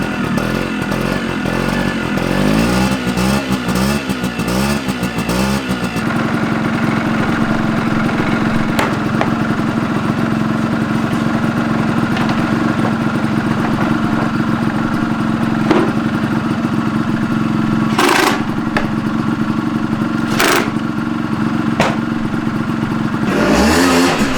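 A 50cc two-stroke scooter engine, modified for more power, runs loud and steady, revving up and down in the first seconds, then holding a buzzing idle with a couple of brief blips near the end.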